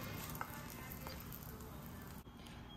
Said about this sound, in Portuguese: Aí tô fazendo aqui na chapa. Coloquei um pouquinho de manteiga.